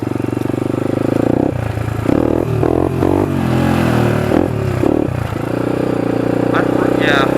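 Motorcycle engine revving hard and unevenly as the rider climbs a steep hill, loud and close, with a voice talking over it.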